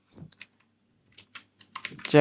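Python code being typed on a computer keyboard: a few sparse, crisp key clicks with pauses, ending in a quicker cluster of taps.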